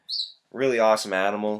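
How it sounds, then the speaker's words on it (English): A single short, high bird chirp sounds faintly in the background of a reptile room holding chameleons, followed at once by a person talking. "You guys are going to hear the bird in the background."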